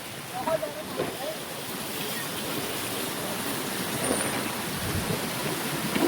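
Heavy rain pours down outdoors on a waterlogged street, a loud continuous hiss and splash with a few scattered knocks and rumbles, growing slightly denser toward the end.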